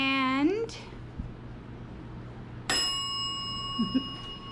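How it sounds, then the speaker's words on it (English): A bell is struck once and rings on with a clear, sustained tone that slowly decays, following a brief rising chirp and quiet room noise. "the bell has been rung the final time."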